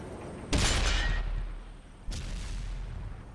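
A tank's main gun fires twice in World of Tanks, from a Leopard 1 aimed at a Bat Chat: two sharp, loud booms about one and a half seconds apart, each with a heavy low rumble that fades slowly.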